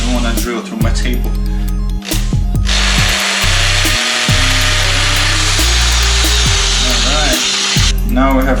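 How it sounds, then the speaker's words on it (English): A power drill whines loudly up close, its motor revving and dropping in bursts as it drills through a homemade dumbbell, with short pauses between runs. "I'm gonna try with a drill and see how a drill goes."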